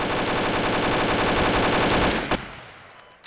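Rapid automatic gunfire in Garry's Mod, a loud continuous burst of shots lasting about two seconds before cutting off into quieter room noise.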